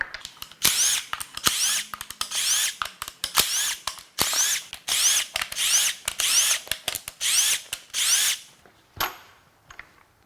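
Power tools and a ratchet working on the intake of a GM 6.2 L87 V8 engine: repeated short whirring drill bursts in quick succession, close and loud, with brief pauses and a final clank.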